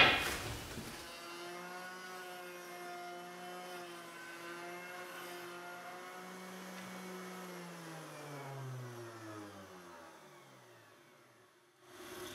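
A router cuts a rabbet into a circular wooden picture frame, a loud sustained high whine that starts abruptly, holds steady, then slowly drops in pitch as the motor spins down near the end.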